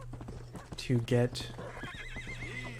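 Horse hooves clop and a horse whinnies loudly in the Western video game Red Dead Redemption, the neigh rising briefly over a steady in-game hum while someone talks over the scene.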